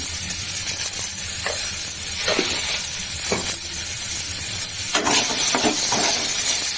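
Mola fish curry with turmeric, young hog plums and salt cooking in a pan, loud and close: a continuous hissing sizzle with intermittent bubbling pops and stirring scrapes.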